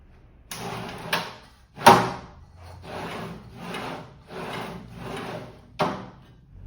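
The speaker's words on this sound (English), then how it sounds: "the drawer slides into the frame with some more little bitty screws" A metal drawer slides into the frame of an industrial-style printer stand during final assembly: a few close wooden knocks and sharp bumps between steady rubbing, scraping strokes, with no talk.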